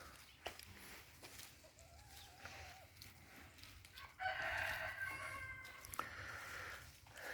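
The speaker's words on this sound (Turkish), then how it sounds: "11 tane tavuğumuz var." Faint clucks and soft calls from a backyard flock of chickens near their coop, then a louder rooster-like crow midway, over a quiet outdoor background.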